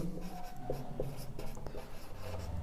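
Handwriting with a pen or chalk during a class-10 genetics lesson, faint scratching strokes in short irregular bursts against a quiet room hum.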